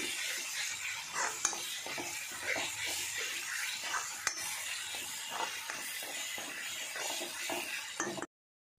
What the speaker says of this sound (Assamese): এতিয়া মই অকণমান দেৰি ভাজি ল'ম কেঁচা গোন্ধটো গ'লে ভাল লাগিব